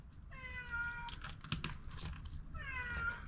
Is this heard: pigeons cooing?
no